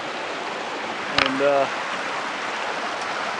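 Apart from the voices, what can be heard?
creek water flowing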